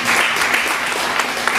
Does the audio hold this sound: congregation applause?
yes